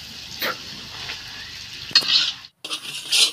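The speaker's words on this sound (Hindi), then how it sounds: "वैसे अब हम डाल रहे हैं खोया, इसको पूरे मिक्स करेंगे" Khoya roasting in ghee in a kadhai, stirred with a soft scrape and a bright sizzling hiss that swells and breaks off briefly before returning, close and fairly loud.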